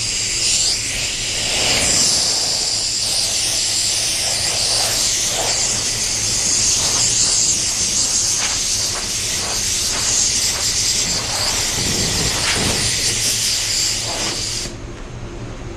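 Steady loud hissing from a paint spray gun coating a Tesla quarter panel, sustained with slight surges throughout and cutting off near the end.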